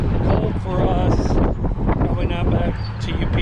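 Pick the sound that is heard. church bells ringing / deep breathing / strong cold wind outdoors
strong cold wind outdoors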